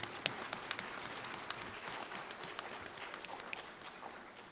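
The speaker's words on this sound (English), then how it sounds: "May we have a round of applause for Madam" Audience applause at the inaugural session of an adventure tourism meet in Shillong, Meghalaya, a steady patter of scattered hand claps heard from a distance, fairly soft and continuous throughout.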